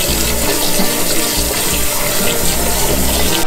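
Tap water pours steadily from a faucet into a kitchen sink or pot to soak Korean rice cakes for spicy tteokbokki, a continuous close splashing rush with no talk.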